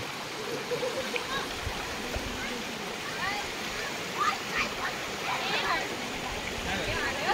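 Pahine Necklace Waterfall near Trimbakeshwar pours down in a steady, close, full-bodied rush of water over rocks, loud and unbroken, with faint voices mixed into the roar.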